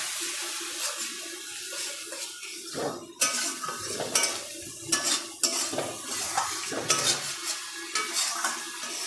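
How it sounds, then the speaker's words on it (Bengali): Spice paste of coriander and turmeric powder stirred and fried in a pan, with steady sizzling broken by repeated scraping, clattering spoon strokes against the metal, close and fairly loud with no talk. "এই মশলাটা পুরো কষিয়ে নিচ্ছি"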